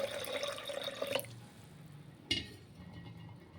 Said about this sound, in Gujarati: એમાં એક ગ્લાસ જેટલું પાણી નાખીશું આપણે